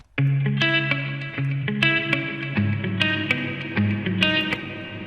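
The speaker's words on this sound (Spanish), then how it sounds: "Tengo entonces acá un sonido básico de guitarra y voy a empezar a manipular los controles" A guitar run through a TC System 6000 effects unit plays a sequence of bright plucked notes and chords, each left to ring with heavy reverb and echo tails, loud and alone.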